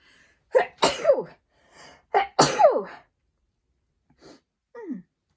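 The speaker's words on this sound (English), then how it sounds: "I'm going to sneeze." Two loud sneezes close together, each with a sharp intake and burst, followed by quieter breathy sounds and a short sigh.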